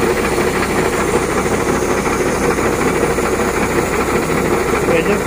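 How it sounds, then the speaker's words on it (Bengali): A powerful vacuum compressor driven off a truck's main engine for septic tank cleaning runs in a steady, loud mechanical drone with constant vibration, unbroken throughout. "এই কম্প্রেসারটা খুব পাওয়ারফুল কম্প্রেসার, এটা ভ্যাকুয়াম করার জন্য"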